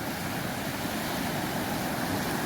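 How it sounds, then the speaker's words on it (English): Small Caribbean sea waves wash onto a reef-sheltered beach in the Dominican Republic as a continuous, even hiss of surf, fairly loud, with breezy rumble mixed in and no clear individual breaks. "we've got a few little waves that managed to get in."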